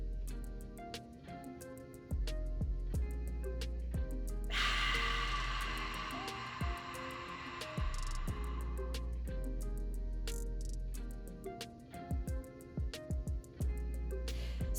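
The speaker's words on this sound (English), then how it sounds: "what I did there was called box breathing" Slow deep breathing through the nose during a guided meditation, with one long, steady nasal inhale or exhale rising clearly above a soft background for several seconds, then quieter breaths afterward.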